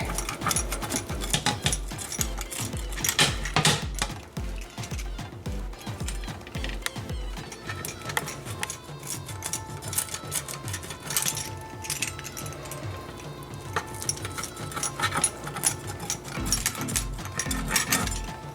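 A baked DiGiorno frozen pizza being cut: busy close crunching and rattling, with rhythmic cutter scrapes and clicks against the pan and crust running steadily throughout, no talking.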